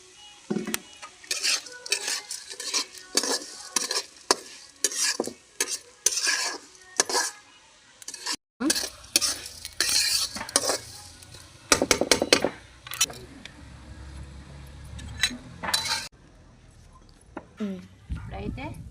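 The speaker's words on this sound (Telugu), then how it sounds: "ఇప్పుడైతే మినప్పప్పు పోసుకుంటున్నా. ఇప్పుడైతే ధనియాలు అయితే వేస్తున్నా. ఇప్పుడు జీలకర్ర అయితే వేసుకుందాం." Urad dal, coriander seeds and cumin dry-roasting in a kadai, with repeated scraping and clinking stirs of a spoon against the metal pan and a faint sizzle, while someone talks throughout.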